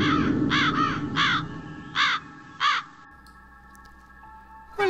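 A crow cawing loudly and close, a quick series of harsh caws followed by two more spaced calls, then near quiet with faint background noise.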